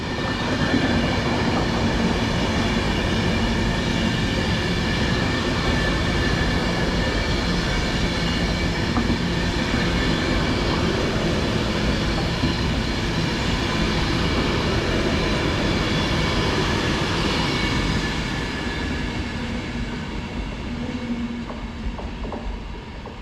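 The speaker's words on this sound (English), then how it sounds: "coming through now is going to be an Avanti West Coast Pendolino, heading on an ECS move from Edge Hill Depot to Polmady" An Avanti West Coast Pendolino Class 390 electric train runs through Lancaster on the West Coast Main Line as an empty stock move, a loud sustained rushing roar with rail clatter that holds steady, then gradually fades near the end.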